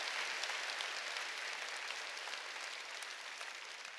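A church congregation claps during a Sunday worship service. The applause is broad and sustained, steady across the room, somewhat distant and soft, with no voices.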